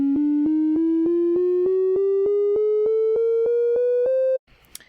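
A synthesized tone steps upward through sixteen short, evenly spaced notes, each a clean electronic beep, rising gradually in pitch before stopping abruptly.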